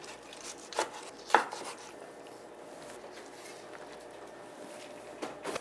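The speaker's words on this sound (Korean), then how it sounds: "이거를 쫑쫑 썰어주세요. 먹기 좋은 크기로 이렇게 썰어주면 됩니다." Soft knife chops on a cutting board as boiled napa cabbage is cut into small pieces, a few distinct taps early and late over a quiet kitchen background.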